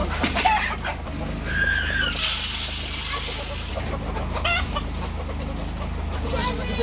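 Several chickens cluck and chatter nearby as feed is put out, with soft scattered bird calls over a steady low hum; a voice speaks briefly in Hindi in the background.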